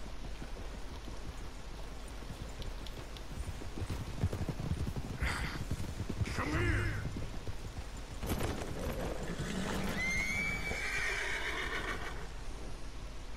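Horses in the Red Dead Redemption 2 video game neigh and whinny several times over a steady outdoor game ambience, with hoof clip-clop in places and a longer whinny toward the end.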